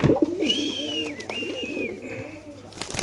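Indonesian racer pigeons coo in a cage, soft repeated throaty coos close by, with a voice speaking over them.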